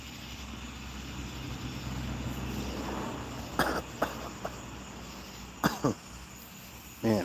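A man coughing outdoors in a quiet, peaceful spot, a few short, sharp coughs in two clusters over a steady background hiss with faint insect chirping.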